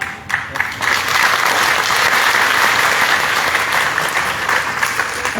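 An audience claps loudly and continuously at a spiritual gathering held for a 70th birthday celebration, with dense, sustained applause beginning after a couple of sharp early claps.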